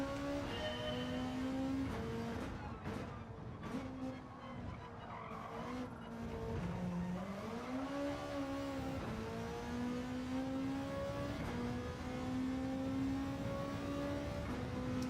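A Volkswagen Beetle engine in the racing game Gran Turismo 7 revs and drones steadily through gear changes, with tyres skidding and squealing, loud and continuous throughout.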